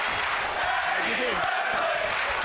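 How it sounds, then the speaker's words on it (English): A wrestling arena crowd in the video game WWE 2K25 roars through a tag team main event on Monday Night Raw, a steady dense wash of cheering and shouting at moderate loudness with no gaps. "You hear the crowd here on Monday Night Raw showing their appreciation for this tag team main event"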